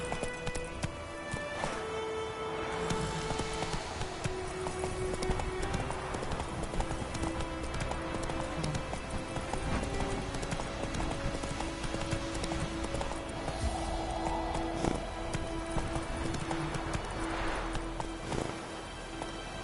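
Horse hooves gallop in The Witcher 3 video game, a fast, steady clip-clop that runs throughout at close range, with a brief whinny and a few short voice lines over it.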